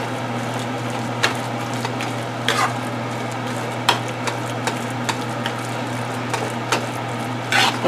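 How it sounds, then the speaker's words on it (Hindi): Mashed brinjal for baingan bharta, part of a litti chokha meal, frying in a pan with a low steady hiss and intermittent spoon scrapes and taps, close by over a constant background hum, no speech. "देखिए इसको 2 मिनट से हम फ्राई कर रहे हैं।"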